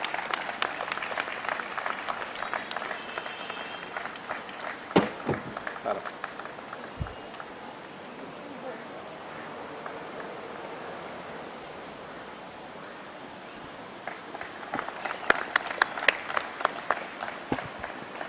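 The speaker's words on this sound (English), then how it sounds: "I will request all our participants to give Mr. Datar a big round of applause, please." An audience at a lecture on anti-defection and constitutional morality breaks into applause for the speaker, a burst of clapping at the start, then quieter room noise with talk, then a second round of clapping near the end.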